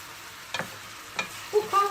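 Onion and pepper sautéing in olive oil, a soft low sizzle with two sharp scraping stirs and some clattering utensil noise near the end, close by.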